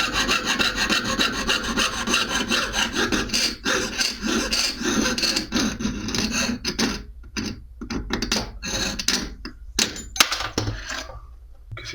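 A jeweler's saw cuts metal at a goldsmithing bench, a steady scraping rasp of back-and-forth strokes running close and continuous, breaking into shorter separate strokes toward the end.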